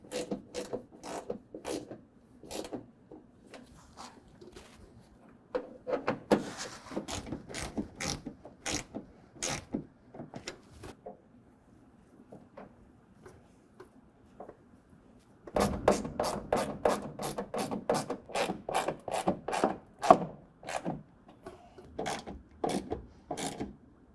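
Phillips head screwdriver driving screws into a Husky Liners DRT fender flare on a 2020 Ram 2500, heard as close, rapid ratcheting clicks in steady bursts with brief pauses, picking up again and quickening toward the end.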